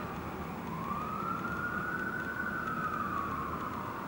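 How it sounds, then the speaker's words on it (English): An emergency vehicle siren wails outside, a single long rising and falling tone heard at a moderate distance over steady traffic rumble. "these motherfucking sirens"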